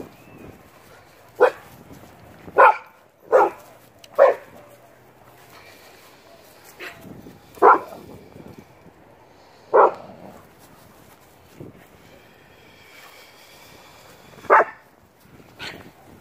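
A dog barks in single sharp yaps spaced a second or more apart, with quiet pauses between and faint background noise.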